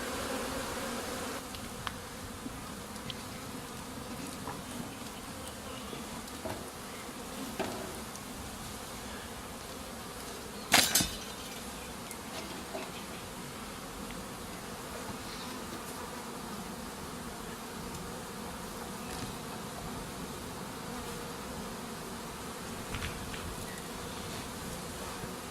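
A honey bee swarm in September hums in a dense, continuous drone of many wings, steady and moderately close throughout, with one brief sharp knock partway through and no talking.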